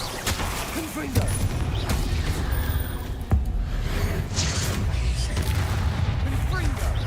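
Rapid, dense volleys of spell blasts and booms from Confringo and Bombarda casts in the game Hogwarts Legacy, layered with whooshes and crackles in a loud, continuous combat din, with one sharper crack standing out.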